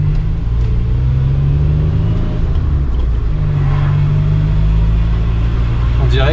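A barn-find Maserati Biturbo driven along an open road. Heard from inside the car, a loud, steady engine drone and road rumble continue throughout with little change in pitch.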